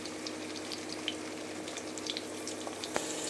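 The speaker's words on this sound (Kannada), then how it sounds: "ನೋಡಿ ಎಣ್ಣೆ ಕಾದಿದೆ. ಈಗ ಇದಕ್ಕೆ ಆನಿಯನ್ ಹಾಕ್ಕೊಳ್ಳೋಣ." Onions frying in hot oil in a pan for tomato bath give a soft, steady sizzle with small pops and crackles, moderately quiet and uninterrupted.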